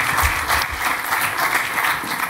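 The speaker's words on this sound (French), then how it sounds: "Je vous demande un tonnerre d'applaudissements pour nos acteurs du MaaS et paiement." Applause for the MaaS and payment panel at a conference session, a steady dense clapping wash from an audience that stays loud and even throughout, with no voices over it.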